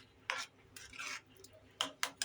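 Ridge gourd curry with milk being stirred in a pan: soft, close scrapes and clinks of a spoon against the pan in irregular strokes, quiet overall, with no talking.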